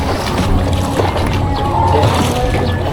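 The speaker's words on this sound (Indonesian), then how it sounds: "lihat proses pengangkutan warganya tuh menggunakan perahu" A boat ferrying residents across a river at a transmigration settlement in North Kalimantan. A steady engine drone and water wash stay loud and close throughout.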